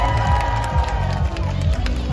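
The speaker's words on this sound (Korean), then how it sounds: "자, 박수 한번 부탁드리겠습니다." A festival crowd at the Suwon Hwaseong Haenggung night festival claps and cheers for a taekwondo board-breaking performance. Loud, busy clapping and shouts sit close, with an amplified voice and music underneath.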